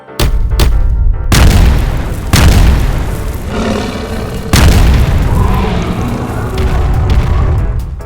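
Cartoon tank cannon fires several booming blasts, with sharp onsets around the start, then heavy roaring shots at steady intervals, loud and close, each trailing into a rumbling decay.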